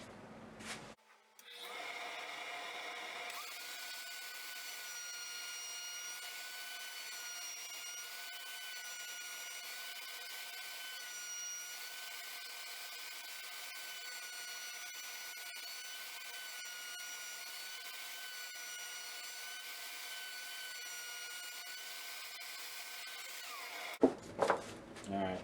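A router with a 3/8 round over bit cuts along oak edges, a steady, loud whining drone that holds for about twenty seconds before winding down, with short clunks at the start and end.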